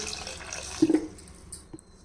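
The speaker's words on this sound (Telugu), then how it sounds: "ఇందులో ఒక హాఫ్ లీటర్ వరకు నీళ్లు పోయాలి" Water pouring into a cooking pot while making tomato rasam, a short splashing burst in the middle with faint kitchen noise around it.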